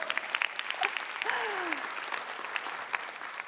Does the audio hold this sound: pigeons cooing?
no